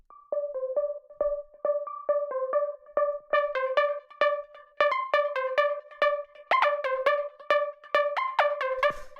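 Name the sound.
synth pluck preset in a tech house track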